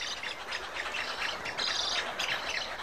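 Birds squawk and chirp without pause at an island breeding site on the Nile, a dense chorus of overlapping calls at moderate distance over a constant hiss.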